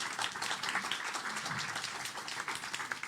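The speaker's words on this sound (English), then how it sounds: "Big round of applause." Audience applause at the close of a final presentation on inclusive living, a dense, steady wash of many hands clapping that holds at an even level throughout, with no speech over it.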